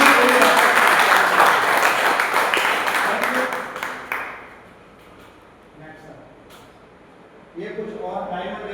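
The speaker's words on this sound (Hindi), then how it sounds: "उसके लिए बहुत ही जोरदार धमाकेदार तालियां" An audience bursts into loud, dense applause at a network marketing company event honouring its MD and CEO, the clapping fading after about four seconds into quiet murmuring, then a brief swell of voices and claps near the end.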